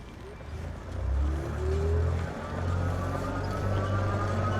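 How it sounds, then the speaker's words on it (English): A Qronge Lava electric trike accelerates smoothly on its twist throttle, giving a rising motor whine with a steady road rumble underneath. "All right, speed test, twist throttle only."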